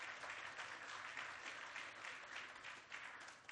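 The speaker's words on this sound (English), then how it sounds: "Give him a round of applause." Audience applause at a speech by Governor Cuomo at the National Urban League headquarters: a steady, dense wash of many hands clapping at once, sustained and fairly distant throughout with no voices on top.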